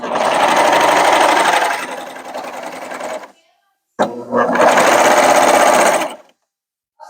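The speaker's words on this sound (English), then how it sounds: "So now let's just give it a quick test and make sure that we're serging." A serger runs a quick test stitch on a zippered pouch: two loud, steady bursts of rapid machine whirring, about three seconds and two seconds long, separated by a short pause, up close with no talking over them.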